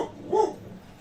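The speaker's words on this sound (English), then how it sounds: "I apologize for the dogs." One short, moderately loud dog bark or yelp comes from nearby indoors, heard alone on garbage day.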